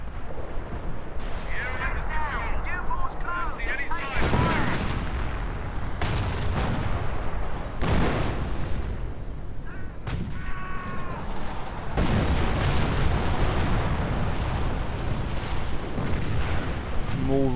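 In a WWII strategy game, artillery booms go off in heavy, irregular thuds and blasts, several in a row, with a voice talking in the background between the impacts.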